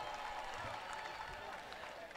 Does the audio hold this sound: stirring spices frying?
no